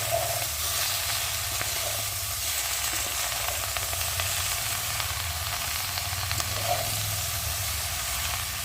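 Food frying in a pan sizzles steadily with a constant hiss, with occasional soft scrapes and clinks as it is stirred, close and continuous without talk.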